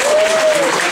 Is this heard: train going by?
no